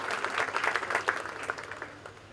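Applause from an audience congratulating newly professed religious brothers at a profession ceremony, a dense patter of many hands clapping together, steady and fairly close before trailing off.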